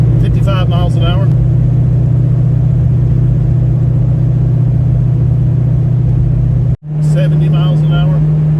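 From inside a Fox Body with a 351W V8 and Flowmaster exhaust, cruising at 55 mph with the windows up, a steady droning rumble fills the cabin, broken by a brief dropout, with someone speaking briefly at the start and the end.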